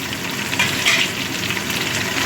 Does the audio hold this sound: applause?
no